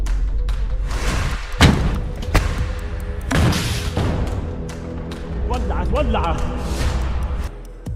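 A launcher fired at a tank by commandos hidden in a distant building during the Israel-Hamas war in Gaza, heard as a few heavy thuds and booms over a steady rumbling backdrop with talk running over it.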